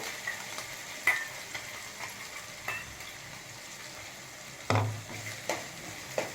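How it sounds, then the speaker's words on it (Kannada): Ground peanut masala paste fries in a pan, giving a low, gentle sizzle broken by intermittent sharp scrapes and taps of a spoon against the metal, close and unaccompanied by talk. "ಹಸಿ ವಾಸನೆ ಹೋಗೋರಿಗೆ ಸ್ವಲ್ಪ ಫ್ರೈ ಮಾಡ್ತಿರೋಣ"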